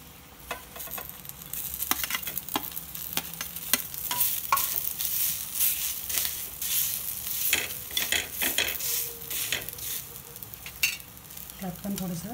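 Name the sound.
onion frying in a pan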